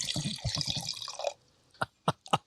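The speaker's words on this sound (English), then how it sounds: "A noisy pour." Wine poured into a glass with a deliberate splash: a close, bubbling, gurgling pour lasting about a second, then quiet with a few sharp clinks and knocks.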